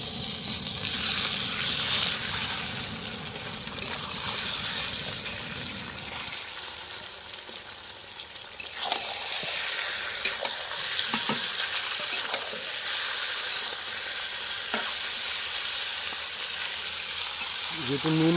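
Marinated chicken for Chicken Maharani sizzles steadily in a pan while being stirred, with scrapes and clinks over a continuous moderate hiss.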